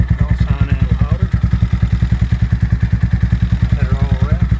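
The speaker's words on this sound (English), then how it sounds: "Exhaust on and louder." A Venom X22R 250 motorcycle with a new aftermarket exhaust idles loud and close with a rapid, throaty exhaust pulse, briefly blipping the throttle, with a voice faintly underneath.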